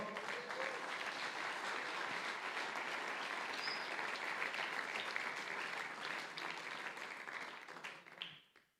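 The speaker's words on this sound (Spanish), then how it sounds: "Denle un aplauso fuerte al Señor" A church congregation at a men's conference claps hard in sustained, dense applause for several seconds before it tapers off quickly at the end.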